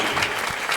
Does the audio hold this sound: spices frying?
no